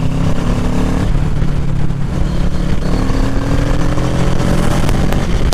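A Kawasaki Ninja 650 accelerating in sixth gear, its engine note climbing steadily in a loud, continuous drone recorded from the moving bike, with wind rush throughout.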